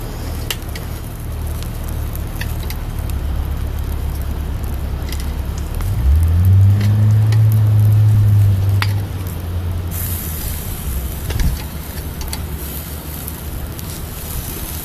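Chicken leg quarters sizzle steadily on a Weber Smokey Joe charcoal grill, a continuous crackling hiss with a low rumble swelling midway, plus a few small clicks and scrapes.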